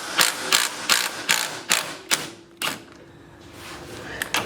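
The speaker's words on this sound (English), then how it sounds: "I'm just gonna loosen the 15 on the top real quick." A ratchet loosens a 15 mm nut on top of a Honda Civic EJ1 coilover, with about seven loud, close clicking strokes in a steady rhythm, then a pause and a few faint clicks.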